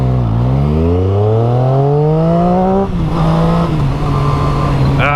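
Triumph Street Triple 675R motorcycle pulling away, its loud intake induction roar climbing steadily in pitch through a gear, then a brief shift and a steadier higher drone, close and continuous with no talking.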